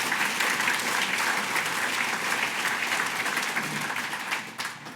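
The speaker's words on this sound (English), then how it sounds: "give that a round of applause" A large audience at a Calgary Chamber of Commerce luncheon breaks into steady, sustained applause, fairly distant and even, tapering off slightly near the end.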